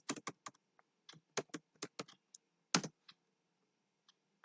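Typing on a computer keyboard: close, crisp keystrokes in irregular bursts, with no other sound around them.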